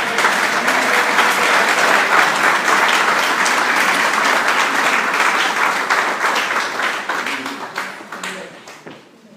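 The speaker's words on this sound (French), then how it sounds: "Applaudissez le Seigneur." A church congregation claps for the Lord during a French-language sermon, a dense, sustained wash of applause that holds steady for several seconds and then thins and fades toward the end.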